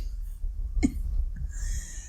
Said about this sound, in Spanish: exclamó mientras empezaba a toser